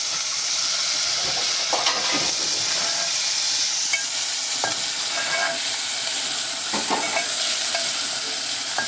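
Tomatoes and green onions are stirred in a sizzling pan over a desi clay chula, a constant hiss of frying with repeated scraping and clinking strokes of a spoon at an uneven rhythm, close and fairly loud.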